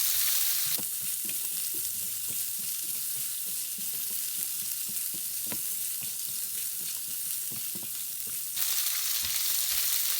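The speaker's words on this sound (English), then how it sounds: "we just let that fry for a few moments, just let it soften up" Chopped onion sizzles in a pan on low heat as the base for a lentil curry, a steady soft frying hiss broken by light stirring clicks.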